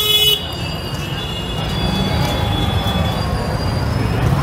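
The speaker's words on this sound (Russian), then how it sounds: "везде пробки и трафик такой вообще ужасный" Dense street traffic in a small Indian town, a continuous low rumble of engines with long sustained horn blasts layered over it, loud and close throughout.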